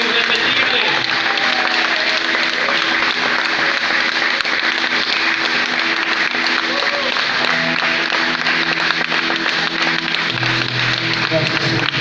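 A church congregation claps hands during an evangelical service, a steady continuous wash of clapping mixed with music and voices throughout.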